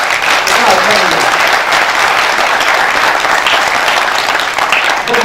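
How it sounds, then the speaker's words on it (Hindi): Dense, sustained applause from a seminar audience fills the room at full volume, a continuous wash of clapping with no breaks. "जितनी जोर से आप तालियां बजाएंगे उतना अच्छा होगा"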